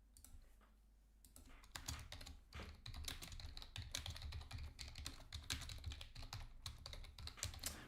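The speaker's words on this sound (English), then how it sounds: "I know I'm just typing right now" Typing on a computer keyboard, a fast, steady stream of clicking keystrokes that runs almost continuously and close up, with no talk over it.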